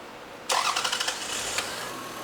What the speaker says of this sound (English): Now what we're going to do, start the car.